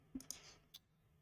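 Clicks from moving checkers pieces in an online checkers game, a few short sharp taps spaced apart and faint, with no talking.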